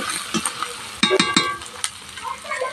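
Turmeric powder and spices being fried and stirred in a pan for an egg curry, with a soft sizzle and a few sharp scraping clinks of a spoon against the pan around the middle, fairly close.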